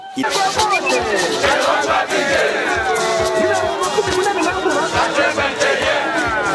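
A large crowd cheers and chants loudly and continuously at an outdoor political campaign rally for a provincial governor on Idjwi island, with dense layered voices and no pauses throughout.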